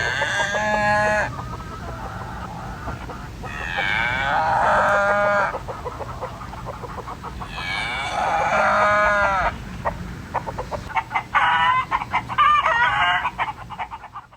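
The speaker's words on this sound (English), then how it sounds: "Now we just have to see how the cows and chickens like it." Farm animals call out in a steady chorus, with repeated harmonic bleats or moos and scattered clucking from chickens, all fairly close and loud with no talk, on a farm where cows and chickens graze together in clover.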